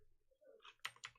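A few crisp keyboard key clicks, close and distinct, with two sharp taps near the end after some quieter rustling.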